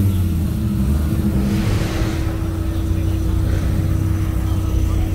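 A Maserati engine revs at a Caffeine & Octane car show, a steady loud low rumble holding throughout with a brief swell near the middle, over outdoor crowd noise and faint voices.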